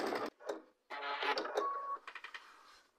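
A sewing machine runs in short, quiet bursts while stitching a Summer Winds quilt block, followed by a string of faint ticking clicks as it slows.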